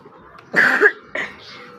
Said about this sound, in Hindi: मुझे कल से खांसी है कि जी